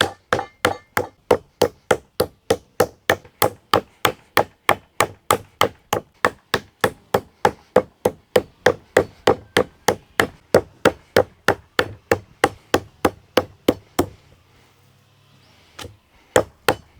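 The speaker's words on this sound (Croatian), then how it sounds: "imamo ovaj jedan komad i sad ćemo ga ovako malo istući" Rapid, steady series of sharp hammer blows pounding a piece of meat, around three per second, loud and close, stopping abruptly near the end, followed by a couple of final strikes.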